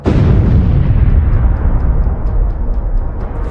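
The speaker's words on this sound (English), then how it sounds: "The BMP's onboard ammunition detonates in a massive explosion." A BMP armored vehicle's onboard ammunition detonates in a massive explosion, heard as a loud, deep rumbling blast that stays heavy and sustained before slowly fading.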